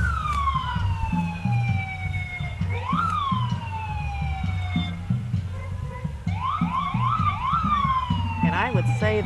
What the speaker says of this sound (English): We can hear the sirens.